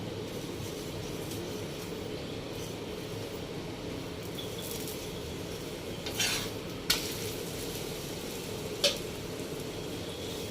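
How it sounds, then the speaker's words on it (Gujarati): Palak paratha roasts in oil on a pan with a soft, steady sizzle, faint and continuous, broken by a few light clinks of a utensil. "પછી એને પલટી અને તેલ લગાવી અને શેકી લેવાનું છે."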